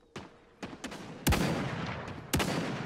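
Gunshots in the chicken shooter video game Chicken Gun, including sniper fire: several sharp separate cracks, the two loudest with long ringing tails, spaced irregularly against a quiet background.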